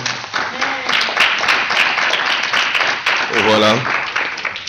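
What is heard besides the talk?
congregation applauding as the preacher approaches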